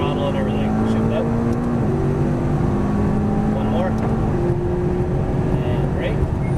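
A McLaren MP4-12C engine pulls hard on a race track at Exotics Racing in Las Vegas, a loud steady drone with stepped pitch changes as it accelerates through gear shifts, heard from inside the car.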